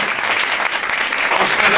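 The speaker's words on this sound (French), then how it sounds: "Faut applaudir, ça fait du bien." A theatre audience claps loudly and densely for a short burst of steady, continuous applause.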